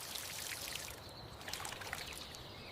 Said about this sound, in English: Are you watering the roses?